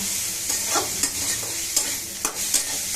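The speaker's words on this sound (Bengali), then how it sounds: "চিংড়ি মাছ মোটামুটি ভাজা হয়ে গেছে" Shrimp fry in a pan with a constant crackling sizzle up close, punctuated every half second or so by the scrape and tap of a spatula stirring, with no talking.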